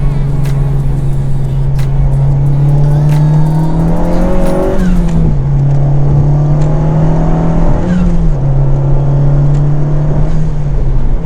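A Honda Civic Type R fitted with an Acuity Stage 3 shifter drives with a loud, close engine drone, rising in pitch as it accelerates and dipping through a couple of gear shifts.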